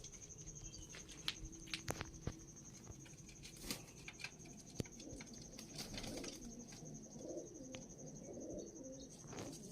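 Soft cooing and wing patter from a female high-flying Dubai breed pigeon, faint and close, with scattered clicks and light handling noises over a quiet background tone.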